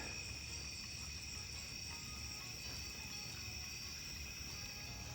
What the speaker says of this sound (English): Bugs are loud tonight. Just wanted you to hear that.